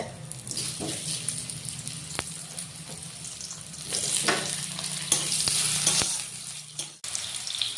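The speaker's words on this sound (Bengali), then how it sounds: "আলুটা অল্প ভাজা নিব লাল লাল করে।" Potatoes frying in hot oil for egg biryani, a loud continuous sizzle with bursts of spatula stirring and a few clinks, water running faintly in the background.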